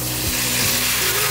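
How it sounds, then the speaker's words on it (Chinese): Minced garlic and star anise stir-frying in hot oil for Beijing-style chao gan, a loud, close, continuous sizzle with brief scraping of the spatula, no voices. "先炒出这个香味出来，炒出蒜香"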